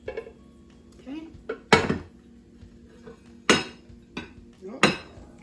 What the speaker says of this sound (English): transfer my jelly onto a plate. I'm just going to flip it.